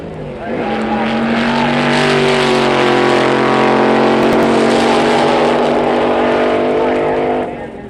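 Twin-engine rail dragster at a 1963 drag race roars up loud and close, a harsh sustained engine note holding steady for several seconds before cutting off abruptly.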